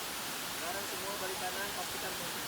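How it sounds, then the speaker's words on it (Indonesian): Water pours steadily at Putri 2 falls beside a campsite, a dense, even rushing hiss throughout with faint tonal sounds threaded through it. "Di sini kami ngecamp di pinggir air terjun Putri 2"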